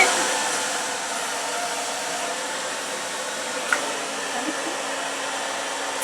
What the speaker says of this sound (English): I'm just blow drying her under down here because it's the hair underneath